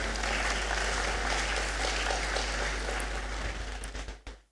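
An audience at a university graduation ceremony claps steadily for several seconds, the applause fading out at the end.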